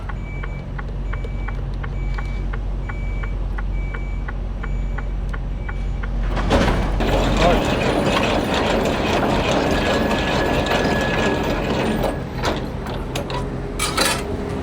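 A semi-trailer's landing legs are cranked up by hand, with a steady run of light ratchet clicks. A louder truck engine rumble then takes over and continues to the end.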